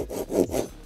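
Saw on a Truper machete cutting wood, three quick rasping strokes in a short burst, close and fairly loud with no voice.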